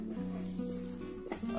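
Hash browns with Old Bay seasoning sizzle in a skillet while being flipped over, giving a steady hiss over a low hum, with a brief clatter near the end. Someone talks briefly.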